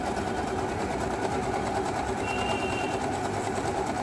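Usha Dream Maker 120 automatic zigzag sewing machine stitching steadily at close range, a continuous light mechanical whir with a fine rapid needle rhythm running unbroken throughout.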